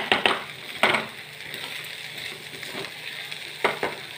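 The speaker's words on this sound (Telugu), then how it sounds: "ఇప్పుడు మూత లేకుండా వేయిస్తాను ఈ కూరని" Curry frying in an uncovered pan, a low, steady sizzle broken by a few sharp scraping and stirring knocks, close and fairly quiet with no talk.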